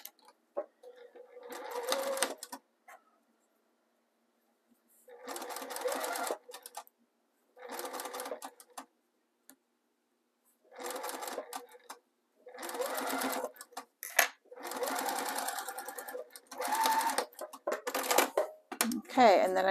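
A sewing machine back-stitches piping trim onto a Christmas stocking in several bursts of rapid mechanical chatter separated by pauses, with a person talking between runs.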